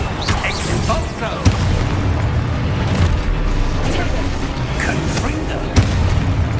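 Expulso blasting spell explosions in Hogwarts Legacy, loud booming crashes with sharp impacts over a dense rumble, a voice speaking over the action.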